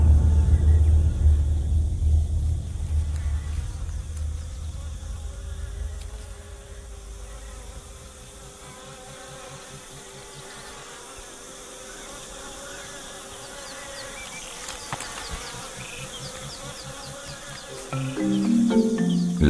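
A dense swarm of flies buzzes around lions on the African plains, a thick, continuous insect drone heard up close, with a low rumble underneath at first and louder movement near the end.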